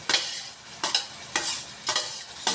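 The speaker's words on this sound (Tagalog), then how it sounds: "Lalagyan natin mga kaibigan yung ating ampalaya." Bitter gourd tossed into a pan of sautéed onion, tomato, garlic and ground meat, heard as four evenly spaced bursts of loud scraping and stirring over a low sizzle, with no talking.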